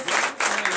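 Congregation at a night deliverance and prophecy church service gives a short, loud burst of applause and acclamation, bright and dense, with voices mixed in.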